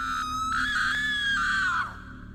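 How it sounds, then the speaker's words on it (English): A woman's long, sustained scream rises then trails off over about two seconds, steady and fairly loud against a quiet background, used as a dramatic sound effect. "A distant scream."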